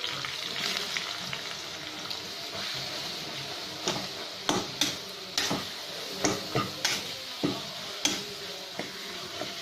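A spoon stirs and scrapes curry ingredients for a cluster bean (goru chikkudu) dish in a pan, with irregular clinks and knocks over a soft, constant sizzle that grows busier in the second half.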